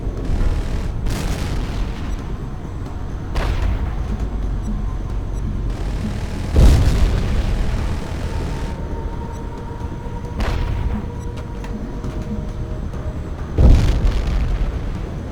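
Gunfire and explosions in the video game Tom Clancy's H.A.W.X 2: a steady low rumble of engines and battle noise, punctuated by a few heavy booming blasts, two of them especially loud and deep.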